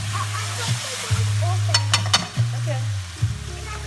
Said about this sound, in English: I'm just gonna give that one more toss, and this is ready to be served.